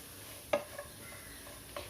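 A spatula stirs a beef roast spice mixture of garam masala and coriander powder in a pan, producing a few soft scraping taps over a quiet, low sizzle.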